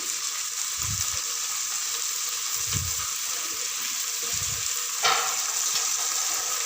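Peas go into a hot frying pan, giving a steady loud sizzle with soft stirring scrapes and low knocks at intervals, close up with no talking.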